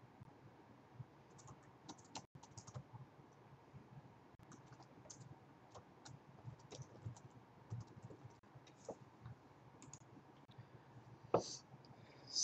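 Typing on a computer keyboard: steady, quiet, irregular key clicks recorded close up, with a few louder taps near the end and no talking.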